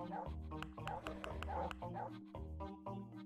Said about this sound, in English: Barking at the mailman.